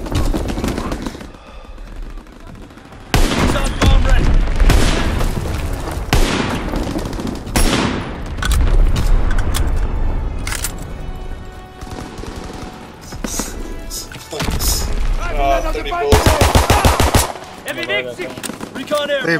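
Heavy artillery and gunfire in Call of Duty: World War II, with loud repeated blasts and rapid bursts of shots layered over a dense battle bed, peaking near the end, with voices heard amid the fighting.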